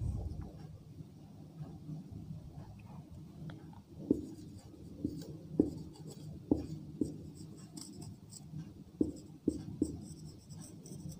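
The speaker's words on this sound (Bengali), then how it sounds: "আমরা আরেকটি বাক্য লিখি" A sentence is handwritten during a Bengali grammar lesson, giving soft scratching strokes with small irregular taps over a low background rumble. No one speaks while the writing goes on.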